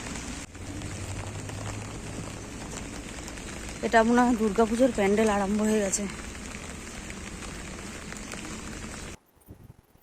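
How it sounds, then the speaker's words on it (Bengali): Rain falling steadily on an outdoor street where a Durga Puja pandal is being built, a constant hiss of drops throughout, with a person speaking briefly over it in the middle before the sound cuts off near the end. "বৃষ্টিটা এখন আবার একটু জোরে আবার আরম্ভ হয়ে গেছে"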